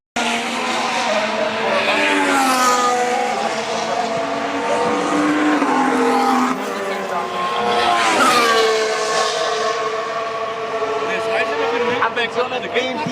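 Formula 1 cars scream past on track at Monza during qualifying, loud rising and falling high engine whines sweeping by one after another, overlapping and close, with a voice talking over them.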